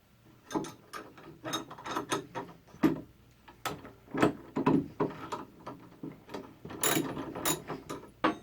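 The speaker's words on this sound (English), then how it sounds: "And I'm going to tighten the nut." A locking nut turned down onto a bolt while fitting a DIY leveling foot for a table, heard as a run of quiet close clicks and metallic ratcheting taps in irregular bursts.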